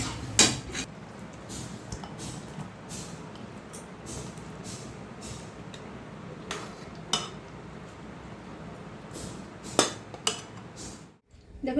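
A cooked mixed vegetable curry is poured out of a pan with repeated metallic scrapes and clanks of a spoon against the pan. The knocks are spaced over a low, steady background and the last one comes just before a short silence.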